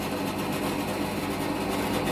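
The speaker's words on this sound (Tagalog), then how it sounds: "Drill tayo, drilling machine." A drilling machine runs steadily with a dense, continuous motor whine and buzz that stays level and close throughout.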